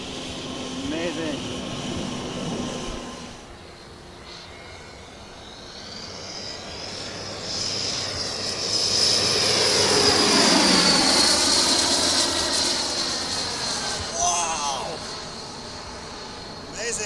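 A VIPERJET MK2 RC jet airplane on its maiden flight whines overhead, its turbine roar swelling loudly as it passes near and then fading off, with people talking over it.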